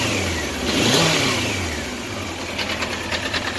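A 1993 Honda CBR900RR motorcycle engine revs unevenly, rising in a loud swell and then settling into a rough, slow, knocking idle with a faint ticking exhaust, heard up close without talking.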